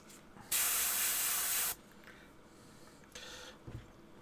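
Primer sprays from a small decanted bottle onto a model kit in one loud, close hiss of about a second, followed later by a fainter, shorter spray burst.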